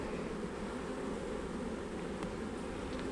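Honeybees hum in a steady, soft drone from an open hive during an inspection, a continuous buzz with no talking.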